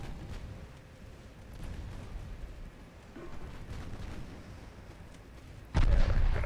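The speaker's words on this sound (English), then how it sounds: "Let's keep the secondary guns firing at the transports, though." Warship secondary guns fire at transports in Ultimate Admiral Dreadnoughts, distant booms rolling under a low battle rumble, ending in one loud, close blast near the finish.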